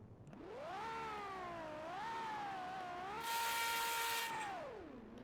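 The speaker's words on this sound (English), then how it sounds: "I can hear this V12 roar" A V12 car engine in a Roblox driving game revs up, holds and drops again, a smooth harmonic whine rising and falling with a sustained bright burst near the top, loud and alone.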